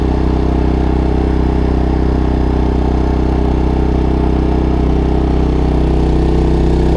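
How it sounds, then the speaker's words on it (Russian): An MXR3800 petrol generator runs steadily under heavy load while charging lithium batteries aboard a sailing yacht, giving a loud, constant engine drone with a slight rise in pitch. "И генератор разгоняется тоже."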